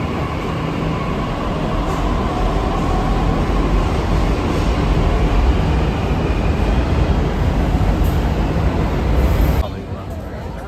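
A Delhi metro train rumbles steadily on the rails with a loud continuous roar and hiss, then the noise drops off sharply near the end as it pulls away.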